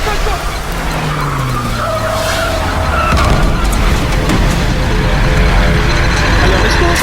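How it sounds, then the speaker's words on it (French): A remote-controlled RC-XD car driving in Call of Duty Black Ops Cold War, with a loud, continuous whining motor, pitch sweeps as it accelerates and boosts, and skidding tires among other game sounds. "Alors, commande de la voiture téléguidée, accélérer, diriger pour activer le boost."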